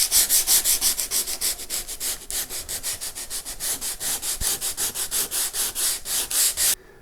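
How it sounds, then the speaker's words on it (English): A guitar body being sanded by hand with a 100 grit pad, the loud rasping strokes repeating in a steady rhythm close up, with no talking, before the rubbing stops near the end. "I'm now going to move up to a 100 grit pad and just start working my way through the grits"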